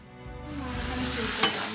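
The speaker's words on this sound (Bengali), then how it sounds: "এদিকে রয়েছে মাংসের আলু ভাজা।" Potatoes for a meat curry sizzle steadily in hot oil in a home kitchen, the hiss building as they are stirred, with a brief utensil clink near the end.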